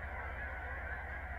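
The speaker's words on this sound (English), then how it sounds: "Geese." Geese honking steadily in the distance at a pond in Wheatland, Wyoming, a faint chorus of repeated calls over a low rumble.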